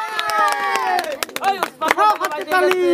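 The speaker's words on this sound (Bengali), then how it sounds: "তার উৎসাহ দেওয়ার জন্য আপনারা হাততালি দেন, করতালি দেন" A village crowd gathered at an outdoor food-eating challenge cheers and whoops for a contestant, with bursts of loud, excited voices and scattered clapping mixed in close to the microphone.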